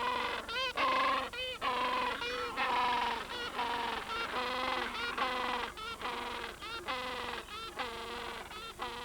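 A Gentoo penguin colony on open ground calls out in loud, nasal, braying squawks, one after another in a dense overlapping chorus with brief gaps between bursts.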